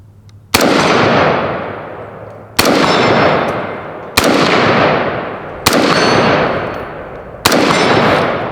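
Five loud gunshots from a Colt California Highway Patrol carbine fired at steel plates outdoors, evenly spaced about a second and a half apart, each a sharp crack with a long echoing tail.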